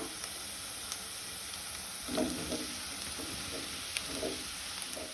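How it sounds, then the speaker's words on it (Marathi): Onions and vegetables sizzle steadily in a hot pan for a soya chunk pulao, with a constant frying hiss and a few soft stirring scrapes, no voices. "कांदो तळसून जालो, तातूंत हांव भाजी घालता।"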